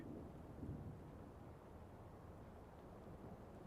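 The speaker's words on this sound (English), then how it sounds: "It's just a little bit of thunder, baby." Low, steady rumble of distant thunder during a thunderstorm, a continuous deep roll with a slight swell near the start, rain-like hiss faintly underneath, no voices.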